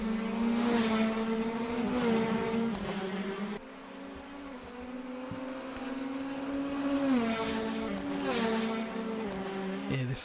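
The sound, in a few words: Caterham 7 race car with 2-litre Ford Duratec engine racing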